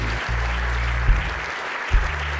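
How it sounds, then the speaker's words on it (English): Sustained audience clapping at a live event, dense and even for a couple of seconds, with a low hum underneath and two soft thumps. "Please clap for Steve"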